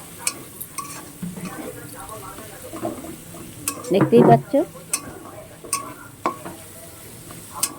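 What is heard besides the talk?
shrimp frying in a pan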